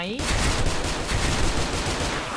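A Remington M870 shotgun fires in the video game Special Force 2, loud booming shots in quick succession that blur into a continuous barrage, with a brief voice at the very start.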